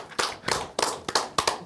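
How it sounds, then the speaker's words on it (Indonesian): A small audience at a stand-up comedy competition claps in a few sparse, separate bursts, close and fairly quiet, with no talking. "Boleh tepuk tangan."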